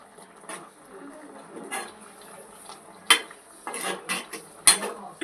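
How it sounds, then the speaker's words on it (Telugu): A spoon stirs spice powder of coriander, cinnamon and garlic into a ridge gourd, egg and tomato curry in a pan, giving sporadic metallic clinks and scrapes against the pan with soft wet stirring between them. "ఇలా మిక్స్ చేసుకొని"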